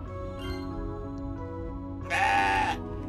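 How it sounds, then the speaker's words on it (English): Playful goat bleats from the video game CrossCode, a few soft cries followed by one louder, longer bleat near the end over quiet game music. "Playful goat noises."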